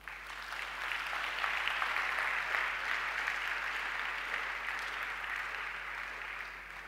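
A congregation in a church breaks into steady, sustained applause, a dense wash of many hands clapping together that swells, holds and slowly eases off without voices.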